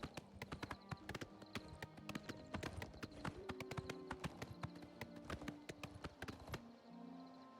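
Horse hooves clip-clop in Oblivion Remastered, a steady rapid run of sharp hoofbeats on a hard city approach, fairly close and alone until they stop near the end.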